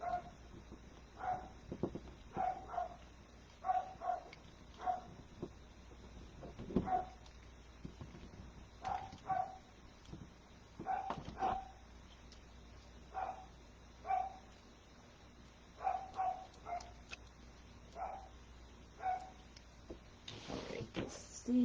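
Pet dogs at home barking in short, repeated bursts at a moderate distance, scattered steadily over about twenty seconds against a constant background hiss.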